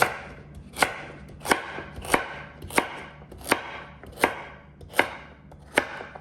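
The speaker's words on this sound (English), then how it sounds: "Just go cut up the ginger." A knife chops fresh ginger on a board in about eight crisp, evenly spaced strikes, close and distinct, with quiet gaps between them and no talking.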